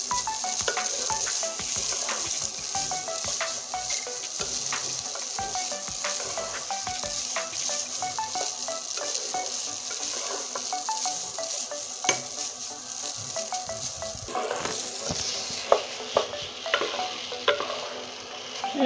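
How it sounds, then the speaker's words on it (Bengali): Maggi noodles with egg frying in a pan, a continuous close sizzle under repeated stirring strokes and occasional utensil clinks against the pan, with no talk. "এই দেখুন সুন্দর করে এখন ভেজে নেব আমি ম্যাগিটা।"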